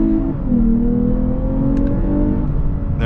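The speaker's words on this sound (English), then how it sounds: "We got the engine sound, but I'll just cut it right here so you guys can hear what it sounds like taking off the light." A 2021 Lexus IS with a non-turbo V6 pulls away from a stoplight, its engine note rising steadily as revs climb through the gear, loud and close inside the cabin with a constant road rumble underneath.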